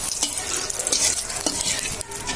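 Cumin seeds, bay leaf and dried red chilli sizzle vigorously in hot oil, a loud, continuous bright hiss broken by a few spatula scrapes and crackles, close up with no talking.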